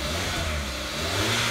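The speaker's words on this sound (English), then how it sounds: "I don't need people getting scared when they hear my V8 engine coming down the road" A V8 car engine with an aftermarket exhaust revving, a steady close rumble rising slightly toward the end, with no voices over it.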